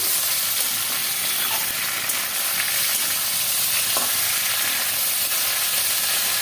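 Tomatoes and vegetables sizzle steadily and loudly in a hot pan, a dense continuous hiss, with faint scraping of stirring now and then and no voices.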